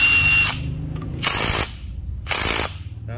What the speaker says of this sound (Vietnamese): bây giờ mình test chức năng búa cho các bạn coi ha.